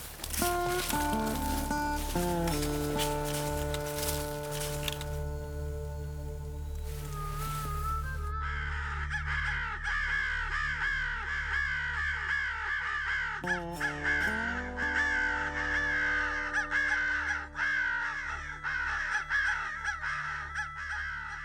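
Crows caw repeatedly and loudly throughout a public-land crow hunt in January, a dense overlapping chorus of harsh calls that thickens in the second half over steady outdoor background noise.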